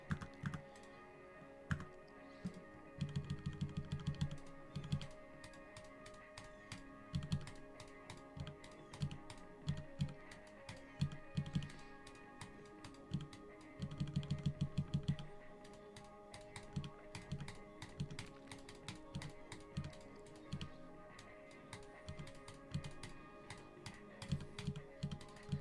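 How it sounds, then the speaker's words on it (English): Typing on a computer keyboard during a Geometry Dash session, rapid uneven clusters of close key clacks with short pauses, steady throughout with no talk. "My keyboard needs to work."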